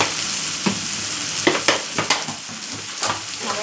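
Spices such as turmeric and salt being stirred into a cucumber and dried fish curry in a hot pan, a continuous sizzle broken by repeated scraping clicks of the spoon.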